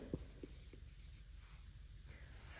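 Pen or marker writing the word nitrogen during a chemistry lesson, a few soft taps and strokes close by, faint and quiet with no talk over it.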